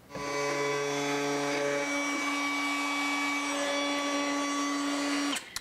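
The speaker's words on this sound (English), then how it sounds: "I'm gonna use the roundover bit again in the router and I'm just gonna go around this outside." A handheld router with a roundover bit runs around the outer edges of a wooden serving tray, a loud steady high whine throughout that cuts off near the end.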